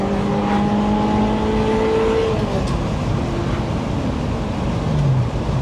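A Ferrari 355 GTS engine roars and revs up through the gears, loud and close, with a steady rising and falling whine.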